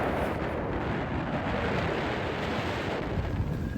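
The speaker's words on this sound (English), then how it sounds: "The next few days encompass wind and more wind, unrelenting wind." Strong, unrelenting wind roars steadily across a boat anchorage at George Town, Long Island, Bahamas, buffeting the microphone with constant broadband rumble and no speech.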